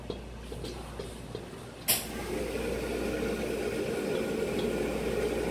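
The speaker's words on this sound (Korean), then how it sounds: "그 다음에 이거 이제 천천히 볶아줍니다" Black bean paste stir-fries slowly in oil over medium heat for jajangmyeon, giving a steady low sizzle and crackle that begins with a sharp clink and then holds an even hiss, with no talking.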